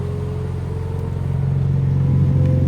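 A stock 2024 BMW M2 runs on a chassis dyno, its engine holding a steady, loud droning rumble with a strong low tone that climbs slightly in pitch toward the end, with no voices over it.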